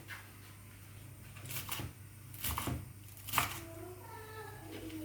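Slate pacha (mashi pacha) greens being finely chopped with a knife for thoren, a few soft, close cuts in quick clusters over a low steady hum.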